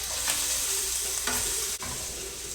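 Food sizzles steadily in a frying pan as it is stirred, with a few scraping strokes of the utensil standing out over the constant hiss; spice and lime juice are part of the cheesesteak filling.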